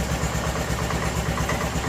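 A 1988 Club Car golf cart engine runs at a steady idle with its air intake partly blocked by fingers, giving a close, continuous low rumble with a slight pulsing throb.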